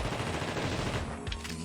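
Automated turret gunfire in The Thing video game, a rapid continuous burst of machine-gun shots, moderately distant and steady before briefly dropping off.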